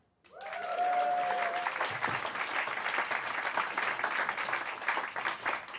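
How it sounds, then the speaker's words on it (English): At a stand-up comedy show, an audience bursts into sustained applause that swells quickly and holds loud and full for several seconds, with a brief whistle at the start. "Round of applause for such men, please."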